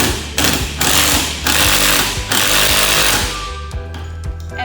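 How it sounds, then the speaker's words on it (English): Impact driver driving a screw, loud rapid hammering bursts in several short pulses with pauses between, close up, no talk. "When using an impact driver to screw in a screw, you line up the bit with the head of the screw,"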